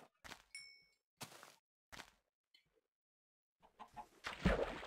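Minecraft chickens clucking in short separate bursts, scattered among game dings and thuds, with a louder rush of noise at the end and no voices.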